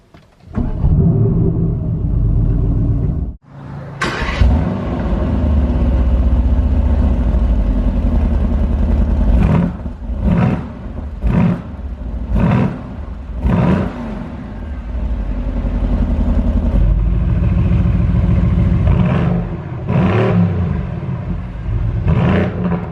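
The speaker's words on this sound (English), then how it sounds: "first 100 yards in a brand new Mercedes GTR" A brand new 2017 Mercedes-AMG GT R pulls away, its engine rumbling loudly and close, rising in repeated revving surges with gear-change dips over the drive, no talk.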